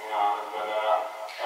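Islamic call to prayer in Egypt drifts in briefly from a distant loudspeaker: a single thin, wavering sung voice that is faint and narrow in tone.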